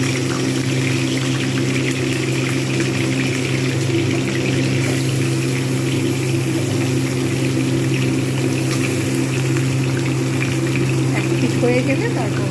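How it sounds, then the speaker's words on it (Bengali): A catla fish head fries in hot soybean oil, a continuous close bubbling sizzle lasting throughout over a steady low hum, with talk faintly underneath. "সয়াবিন অয়েল দিয়ে দিয়েছি, গরম হয়ে গেছে। এবার আমি একটা মুড়োগুলোটা ভেজে নেব।"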